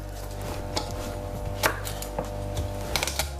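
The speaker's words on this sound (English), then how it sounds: "Just use the back of a knife and crush the garlic" Garlic cloves crushed with the back of a knife on a board, several sharp distinct thumps at uneven intervals over a low steady hum.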